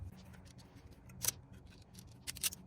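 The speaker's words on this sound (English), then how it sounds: "we're going to go ahead and we're going to snip that off on either side there" Two quick, crisp snips of cutters through a speaker wire on a Lexus GX470 front door subwoofer, close and fairly quiet, with faint handling clicks around them.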